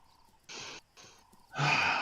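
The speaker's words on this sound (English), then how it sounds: "I heard the wildebeest snort." A wildebeest snorts in the Wild Savannah animal game, giving two short breathy bursts and then a louder, fuller snort close by, with no voices.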